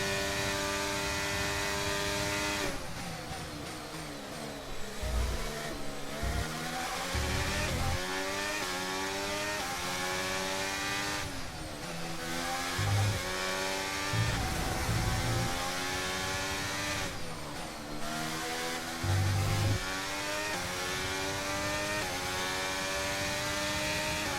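Race cars in a Formula 1 Grand Prix in the video game F1 23, engines screaming and rising through repeated upshifts, with high revving whines climbing and dropping in steady cycles, loud and close.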